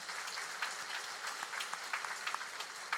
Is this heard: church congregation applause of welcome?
yes